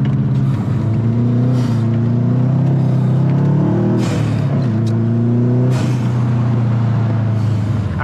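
A Subaru Impreza's boxer engine drives loud and close on a snowy circuit track, its droning note climbing and falling with repeated revs and gear changes, with brief bursts of whooshing noise.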